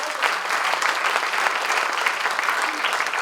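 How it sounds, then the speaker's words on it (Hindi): Steady, dense applause from an audience at a poetry recital, sustained and fairly loud throughout with no break. "बहुत बढ़िया, जोरदार तालियां"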